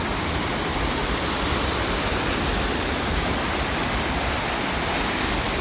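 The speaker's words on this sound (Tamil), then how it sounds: "வான் பாஞ்சி போகிறது" Water pours over the spillway of Akkarayan reservoir, a loud, steady, broadband roar that holds unchanged throughout with no voices heard.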